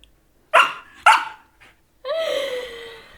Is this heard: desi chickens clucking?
no